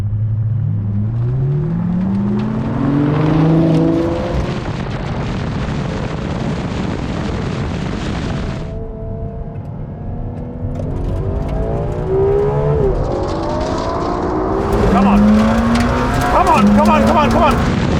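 Ferrari 812 Competizione and McLaren Senna at full throttle in a rolling quarter-mile drag race, engines rising through gears with shifting pitch sweeps, loud and continuous, with a faint voice at times.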